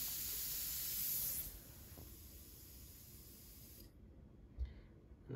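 Airbrush setup with a compressor regulated to about 30 psi, a sharp, bright hiss of released air lasting just over a second, then a quiet, low background hum.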